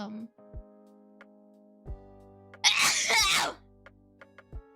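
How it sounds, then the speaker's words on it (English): One sharp, loud sneeze bursts out against a quiet background of low steady hum, with a few soft knocks before and after. "I didn't mean to sneeze like that and scare you"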